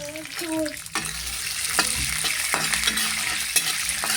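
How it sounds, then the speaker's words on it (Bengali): Peas lightly frying in a pan for egg biryani, a steady close sizzle broken by repeated sharp scrapes and stirs of a spatula, with a voice speaking over the first second. "এবার মটরগুলো আমি হালকা দিয়েই তুলে নেব, হালকা ভেজে নেব"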